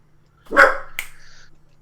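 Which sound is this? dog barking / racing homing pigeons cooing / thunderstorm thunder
dog barking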